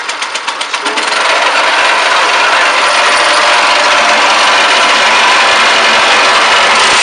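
A Kohler 6.5HP engine on a new curbing machine sputters through a few quick pulses, then settles into a loud, steady, close-up run with a constant buzzing drone.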